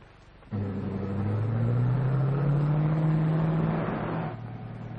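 A roadster car starts up and pulls away, its engine rising in a steady drone that holds for a few seconds close by, then drops off abruptly.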